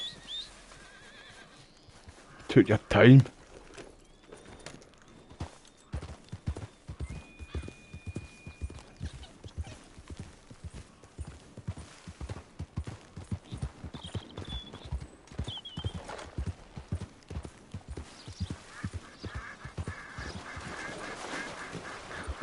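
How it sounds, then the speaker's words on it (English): Steady hoofbeats of a horse galloping in Red Dead Redemption 2 run through most of the scene, with a loud whinny near the start and brief game calls. Someone speaks briefly. "Come on, horse."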